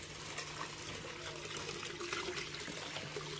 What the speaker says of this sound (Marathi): धबधबा बारा महिने चालणारं पाणी असा आहे धबधबा